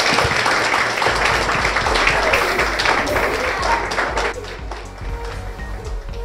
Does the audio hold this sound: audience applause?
yes